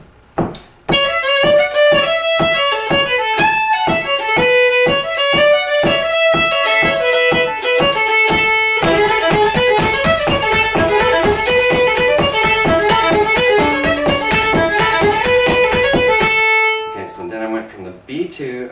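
Solo instrumental dance tune: the B2 part of a jig in A flows straight into a reel in A. Quick, evenly articulated notes run continuously, then stop near the end with a few scattered notes after.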